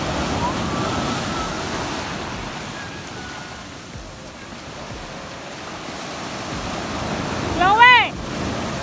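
Ocean surf rolls in steadily at a rough sea on a breezy day, a broad continuous wash of waves, with a brief high whistle-like call near the end.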